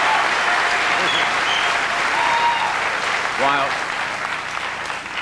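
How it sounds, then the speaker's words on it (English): A studio audience at The Tonight Show's 23rd anniversary special gives a loud, sustained ovation, dense steady clapping that holds throughout and eases slightly toward the end, with a brief voice-like sound rising within the crowd noise. "while your reaction is nice and that ovation is personally fulfilling"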